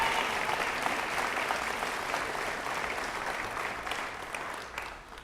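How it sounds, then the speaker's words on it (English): An audience at a church ministry event applauds loudly and steadily, a dense wash of clapping that gradually fades toward the end. "Just so you know, Tori, you've gotten a louder applause than I've ever gotten in 20 years of ministry, so congratulations on that."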